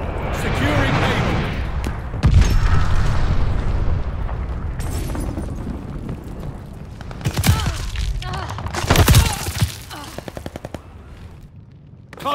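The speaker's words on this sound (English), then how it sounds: "Enemy's got a glide bomb incoming." A glide bomb blast in the video game Call of Duty: Vanguard booms amid constant machine-gun fire and battle noise. Radio voices talk over the heavy thuds and rattling bursts.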